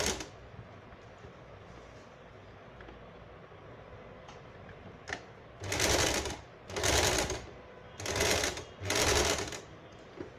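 Four short, even bursts of a sewing machine stitch the corner of a label on a casual shirt. They come close together after a quiet stretch with faint handling noise.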